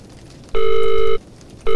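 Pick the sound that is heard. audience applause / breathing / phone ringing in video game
phone ringing in video game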